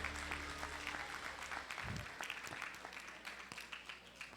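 A church congregation applauds during a celebration service, with steady massed clapping running throughout at moderate loudness and a brief low thump partway through.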